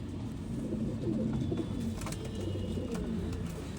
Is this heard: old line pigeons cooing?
yes